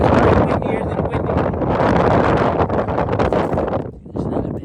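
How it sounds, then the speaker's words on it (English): Strong hurricane wind roars into the microphone during rockhounding along a cliff line. The loud, dense buffeting continues almost without a break and dips briefly near the end. "It's very windier than windy."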